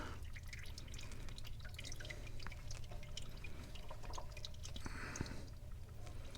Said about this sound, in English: Oh yeah, that's dripping everywhere.